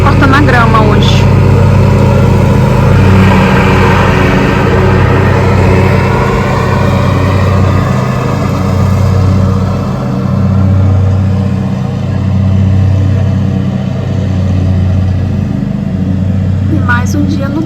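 A lawn mower cuts grass nearby, its steady mid-pitched engine drone running continuously and fairly loud throughout, with a voice talking over it.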